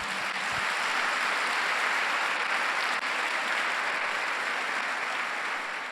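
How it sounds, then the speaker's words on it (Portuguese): A church congregation at a Sunday service applauds steadily, a dense wash of many hands clapping at even loudness throughout, with no speech over it. "Dá um aplauso ao Senhor."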